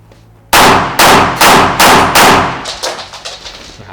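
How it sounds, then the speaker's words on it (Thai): Five sharp, loud reports from a Retay 84FS blank pistol ring out in quick succession, each cracking close and decaying fast, followed by echoing reverberations trailing off. "ลองทดสอบยิงดูสักชุดหนึ่งนะครับ 5 นัดนะครับ"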